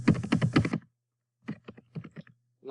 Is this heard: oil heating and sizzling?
no